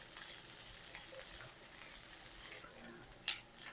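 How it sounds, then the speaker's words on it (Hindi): Vegetables sautéing briefly in a pan for white sauce chicken pasta, a soft, fairly quiet sizzle with a few stirring clinks and one sharper tap near the end, no voice. "और इन वेजिटेबल्स को भी हम 1 मिनट तक नरम कर लेंगे।"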